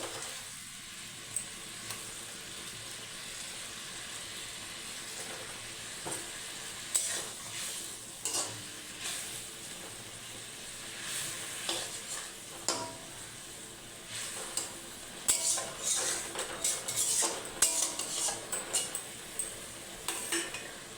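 Pangas fish pieces slide into a pot of boiling curry, bringing soft bubbling and scattered clinks and scrapes of a utensil against the pot that grow busier toward the end.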